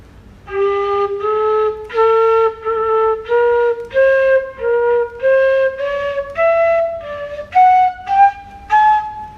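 A six-hole flute plays a series of clear, sustained notes one after another, each held briefly with small breaks, stepping gradually higher in pitch.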